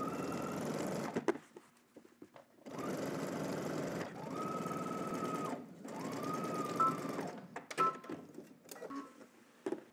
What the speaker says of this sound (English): let's just head to the machine and we're going to stitch using 3/8 of an inch seam allowance from the top down to the bottom of your pocket